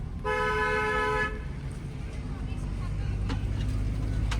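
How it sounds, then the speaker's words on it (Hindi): A steady car horn blares for about a second over a low engine rumble, followed by continuous road and vehicle noise. "लॉन्ग हॉर्न प्रेस करो।"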